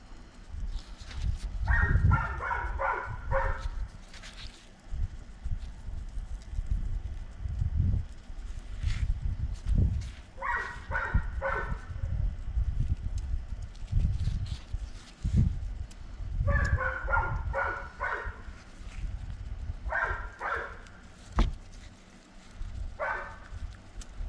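Dogs bark outdoors on a sunny day in Oklahoma, in several short bursts of repeated barks spread across the stretch, moderately distant over steady background noise with no talking.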